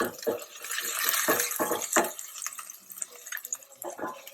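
Hand-rolled meatballs are dropped one after another into a pan of simmering liquid, giving several soft, close splashes and plops over a steady bubbling wash.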